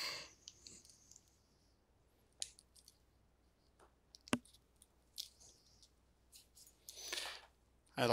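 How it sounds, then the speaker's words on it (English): Network cable wires are trimmed at a keystone jack, giving a few faint, sparse snips and clicks at close range in a quiet room. "Trim your wires."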